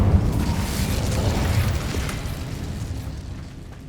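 Incendio fire spell blast in Hogwarts Legacy: a loud whooshing burst at the start that decays into a fading rumble over a few seconds, with no talking.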